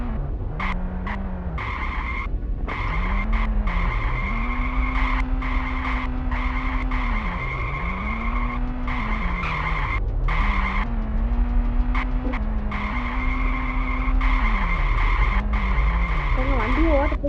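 Cars skid repeatedly in the horror game Ice Scream, with tire squeals rising and falling in long wavering sweeps over a steady engine drone, loud and continuous throughout.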